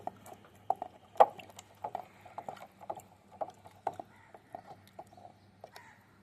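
Mustard cake soaked four to five days and rotted into liquid fertilizer is stirred, giving repeated soft wet sloshes and splashes in an even rhythm, close and fairly quiet, with no talking.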